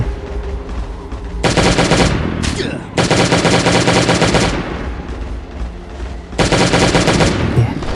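Automatic gunfire from a gun in the zombie survival game Last Day on Earth rattles in three long, loud bursts separated by short pauses, dominating the scene with no talk over it.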